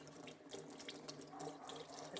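Tap water runs steadily into a sink while something is rinsed under the stream, a continuous close splashing hiss with no talking.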